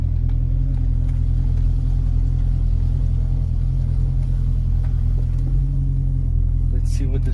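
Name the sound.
flooded Corvette starting its first test drive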